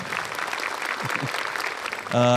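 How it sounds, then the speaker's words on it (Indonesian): Stand-up comedy audience giving a steady round of applause, with a brief musical sting cutting in at the very end. "Boleh minta tepuk tangan dulu untuk Ibu Haris Teguh."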